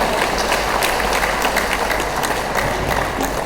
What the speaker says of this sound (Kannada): ಎಲ್ಲರೂ ಜೋರು ಚಪ್ಪಾಳೆ ತಟ್ಟಿ ಪೂಜ್ಯರನ್ನ ಸ್ವಾಗತ ಮಾಡಿ